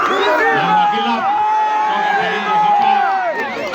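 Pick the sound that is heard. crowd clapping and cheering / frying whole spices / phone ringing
crowd clapping and cheering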